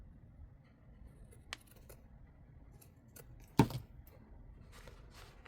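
Scissors trim paper for a Christmas junk journal in a few quiet, separate snips, with one sharper, louder cut near the middle and a hushed room around them.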